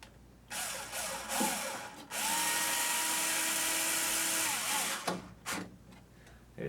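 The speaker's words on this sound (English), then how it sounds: "Let's go ahead and put those couple screws in." A power driver runs screws into a Donkey Kong cocktail arcade cabinet, giving a close, steady whirring whine that holds for a few seconds, framed by shorter bursts and stops.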